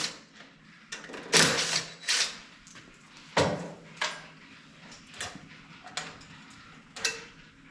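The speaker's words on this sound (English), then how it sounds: "Let's go ahead and pull this air box off of here" Stock plastic air box pulled off a Mega Moto 212 engine, a series of sharp plastic clunks, snaps and rattles spaced irregularly, close up with no talking.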